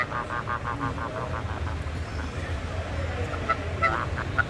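A cartoonish goose in the video game Knights and Bikes honks in a rapid string of repeated calls, then gives a few more scattered honks over background game music, loud and close.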